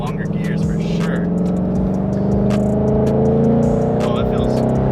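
A Mustang GT with Roush parts accelerates on a freeway, its engine a steady low droning rumble that builds gradually in loudness, heard from inside the car with someone talking over it.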